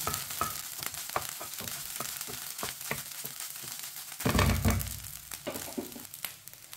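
Leftover rice being stirred and pushed aside in a pan on a just-switched-off stove, giving soft scraping and crackling sizzle with a denser, louder burst of stirring midway.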